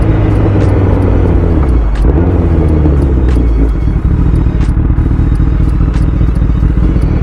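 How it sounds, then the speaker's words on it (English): Honda CBR1000RR motorcycle engine running at idle after an oil change, a loud, close, continuous rumble with a steady rapid pulse and no talking; the start itself is not evident. "We had a nice startup, good idle."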